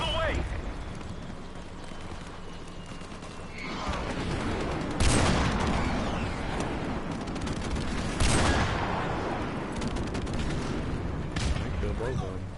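Video-game airstrike with gunfire crackling throughout, loud explosive bursts landing around five and eight seconds amid continuous battle noise, with voices in the background.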